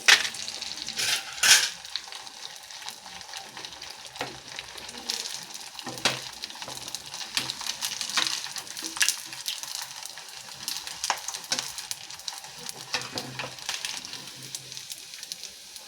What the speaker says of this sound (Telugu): ఆయిల్ కాగిన తర్వాత వడియాలు వేసుకోవాలి